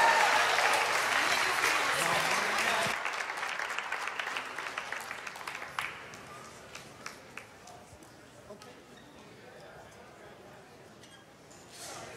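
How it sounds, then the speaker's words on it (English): A church congregation applauds and cheers for children leaving the platform, loud at first and then thinning into scattered claps that fade toward the end. "Let's give them all a cheer as they leave the platform."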